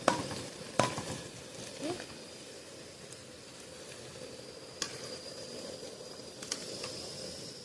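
Onions frying in a pan in a home kitchen, a steady soft sizzle with a few louder clatters of utensil against the pan near the start, a voice speaking over it.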